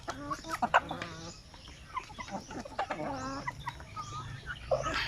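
Free-range native chickens clucking close by in a yard, a busy overlapping run of clucks and calls with a few louder squawks throughout.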